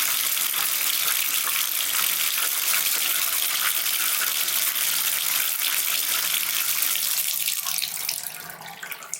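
Water rushing down an unclogged bathtub drain, a steady loud hiss and gurgle of flow that thins out near the end as the tub empties.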